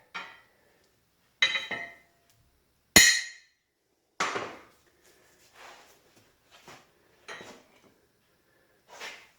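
A steel spreader bar for sheep handling panels being hammered into place, a handful of sharp metallic whacks spaced irregularly, one especially loud, with quieter taps and clinks between them, close up.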